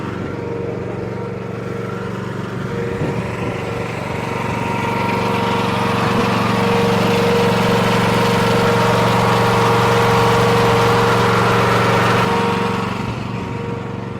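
A Honda engine idling on a Toro Dingo compact loader with an extendable boom, a steady close-up mechanical drone that rises slightly in level through the middle and holds evenly, heard alone.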